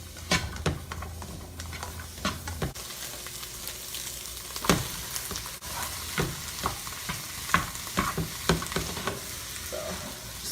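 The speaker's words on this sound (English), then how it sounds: "So I'm just cooking my onion" Onion frying in a pan, a continuous close sizzle with frequent stirring scrapes and taps of a utensil against the pan throughout, no talking.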